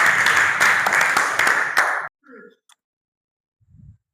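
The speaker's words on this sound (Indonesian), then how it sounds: "tepuk tangan dulu" A group of participants in a class session applauding, with dense clapping for about two seconds that then cuts off abruptly, followed by a few faint clicks and a short murmur.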